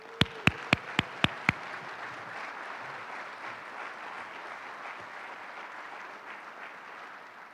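A crowd at a police chief's swearing-in ceremony gives steady applause, opening with a few sharp, close individual claps before settling into a continuous, moderately loud wash of clapping that fades slightly at the end.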